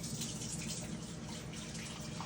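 Hot water running steadily from a tap into a two-cup measure for a single batch of homemade bread, a continuous rushing flow at moderate level with no talk over it.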